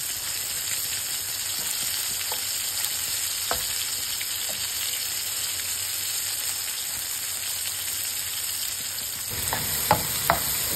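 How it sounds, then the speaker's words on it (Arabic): A small-to-medium onion frying in fish oil in a pan, a steady bright sizzle throughout with occasional stirring clicks and scrapes, louder near the end, no talking. "خذينا شوية من زيت السمك وحطيناه على تقريبا بصلة صغيرة متوسطة نحمسهم لين تعطينا لون"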